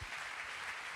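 An audience at an events-industry awards night in Lyon applauds the candidates, a steady wash of clapping that fills the whole second at an even level with no voices over it.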